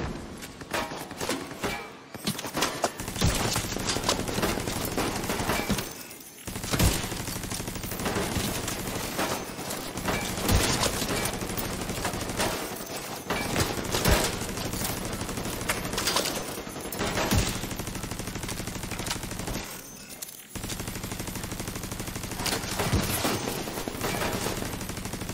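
Gunfire in The Division 2 video game, with a sniper rifle among the weapons, crackles and booms in dense bursts and volleys for about 25 seconds. Brief gaps fall between the runs of shots, and no voice is heard.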